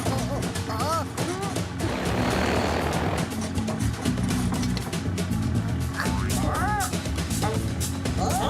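A loud, constant aircraft engine drone fills a cartoon scene, with short voices and chirpy sounds cutting through the roar.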